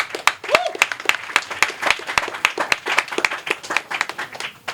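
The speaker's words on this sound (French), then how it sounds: "Donc je voudrais déjà qu'on l'applaudisse pour ça." Applause from a press-conference audience, a moderate crowd clapping in a fairly steady, loose rhythm, close and clear with a brief vocal sound early on.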